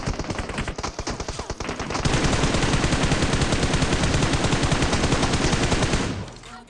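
Rapid UZI submachine gun fire in PUBG Mobile, sustained fast automatic bursts that grow louder and denser midway and run for several seconds before cutting off, with no voices.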